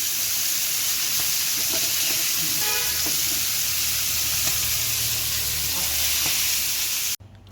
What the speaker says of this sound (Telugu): మొత్తం బాగా ఫ్రై అవుతుంది.